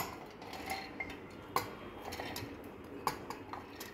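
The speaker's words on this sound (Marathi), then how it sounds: "तर मिक्सरच्या भांड्यामध्ये मी ही डाळ काढून घेते" Soaked dal is scooped into a steel mixer jar, giving light clinks and taps of a spoon against metal. The strikes are sparse and irregular over a quiet kitchen background, with a couple of sharper knocks.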